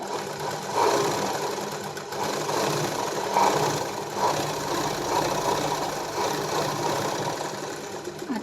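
A sewing machine stitches the sleeve joint of a blouse, running steadily up close with a rapid mechanical whirr and rhythmic needle chatter that swells and eases in short pulses.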